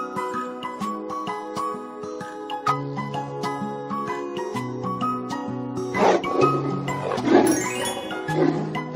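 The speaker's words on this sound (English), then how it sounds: "Tiger." A tiger roars in a few rough bursts near the end, set against bright, busy background music with chiming tones.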